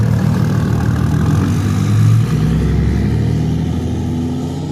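A truck engine idling at a truck show, a loud close low rumble that holds steady throughout, with a brief swell in the middle and a slight fade near the end.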